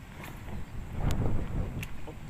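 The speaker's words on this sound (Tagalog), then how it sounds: "Lakas ng hangin, hirap mag ano eh." Strong wind buffeting a microphone outdoors during urban fishing in floodwater, a steady low rumble with gusts swelling in the middle, a couple of faint clicks and some talk underneath.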